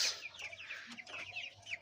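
Broiler chickens, 22 days old, cluck and chirp softly in quick, overlapping calls, faint and close, with no talking.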